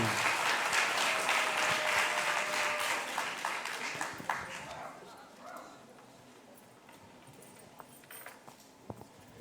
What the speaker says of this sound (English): Round of applause for Logan.